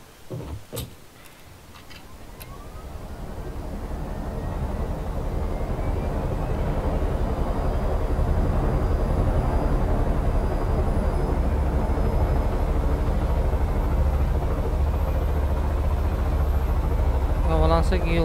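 A helicopter in the video game Far Cry 5 spins up from quiet into a loud, steady rotor-and-engine drone that fills the rest of the stretch, with a few faint clicks near the start.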